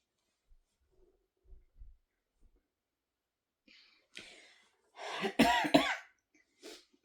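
A few harsh coughs in a quiet room, preceded by soft breathy sounds and a throat-clearing rasp, then a final short cough.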